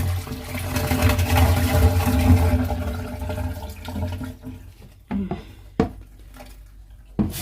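Water from a Bosch Maxx7 washing machine with an E18 drain fault pours steadily into a basin, loud and continuous for several seconds, then thins into a few separate splashes and drips.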